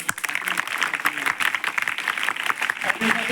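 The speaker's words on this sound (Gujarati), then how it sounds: "જોરદાર આપણે તાળીઓ" Applause from an audience at a village primary school Independence Day function, a steady dense patter of hand clapping lasting a few seconds at moderate level.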